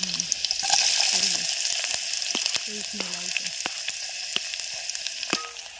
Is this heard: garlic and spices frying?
yes